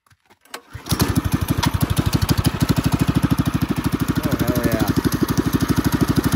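A Predator 212cc go-kart engine with a straight pipe starts after a brief silence, then runs loud and close with a rapid, steady exhaust pulse at idle.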